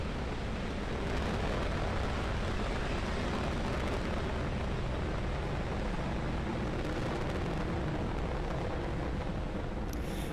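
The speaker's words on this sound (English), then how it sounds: "there is successful liftoff of Falcon 9 carrying our 18th resupply mission on a Dragon spacecraft" A SpaceX Falcon 9 rocket lifts off carrying a Dragon resupply mission, a steady, heavy, distant roar and crackling rumble that runs unbroken and without speech.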